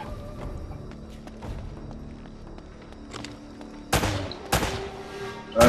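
Gunfire in the video game Uncharted: Drake's Fortune, a few sharp shots with a dull background at first, then louder cracks near the end.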